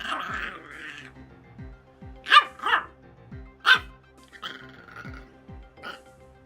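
A dog barks several times in short, sharp bursts, fairly close, with brief pauses and some low background noise between barks.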